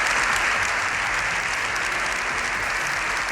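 Sustained, dense standing applause from a large parliamentary audience for the Pope, lasting minutes, loud and even throughout with no voices rising above it.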